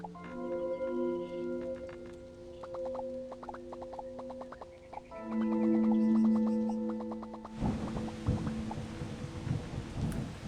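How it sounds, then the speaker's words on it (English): Rain pours steadily with rumbling thunder in the Starbound game, coming in as a loud broadband wash partway through after a stretch of soft plinking game music that continues beneath it. "I think it constantly rained the entire time I was building."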